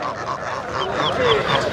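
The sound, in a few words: ducks at a rural market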